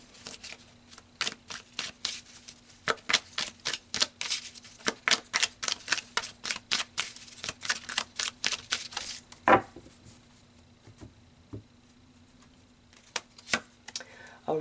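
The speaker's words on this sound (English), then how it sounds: "let's pull some more cards here" Tarot cards shuffled and dealt in a long run of quick, crisp riffling snaps and flicks for about nine seconds, then a few separate card slaps and taps near the microphone with no talking.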